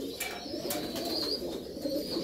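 Pigeons coo steadily in a backyard dovecote, a soft continuous murmur of low throaty calls with a few brighter chirps on top, close and moderately loud, with no voices.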